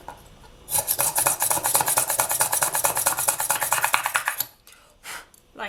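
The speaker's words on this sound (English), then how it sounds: "using a drill, going to drill a hole at the top" A small drill bores a hole through the top of a dried polymer clay earring, giving a steady close rasping grind for about four seconds, then a couple of short scrapes after it stops.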